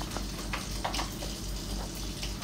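Tap water runs into a kitchen sink during washing-up, a soft steady trickle with intermittent splashes and clinks, fairly quiet, while faint voices talk nearby.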